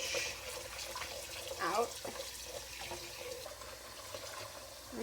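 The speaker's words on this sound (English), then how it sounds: "So I'm gonna swish these around in nice and cold water." Cut potatoes are swished around in a bowl of cold water, producing soft close sloshing and running water, with a brief louder splash partway through and a voice speaking briefly.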